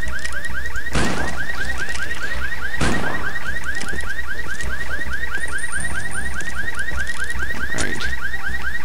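A car alarm in the video game Road to Fiddler's Green sounds loudly and continuously, a rapid repeating electronic warble with a few heavy thumps breaking through, with nobody speaking.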